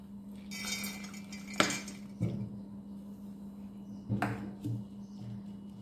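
About a bowl of soaked mung beans is tipped into a mixer jar, giving a few faint, scattered clinks and soft knocks against the jar in a quiet kitchen.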